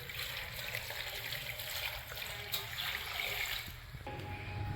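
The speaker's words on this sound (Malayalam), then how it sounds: "വെള്ളം ഒഴിച്ച് കൊടുക്കുന്നുണ്ട്." Water pours steadily into a pot of tapioca seasoned with turmeric and salt, a continuous close splashing trickle with no pauses.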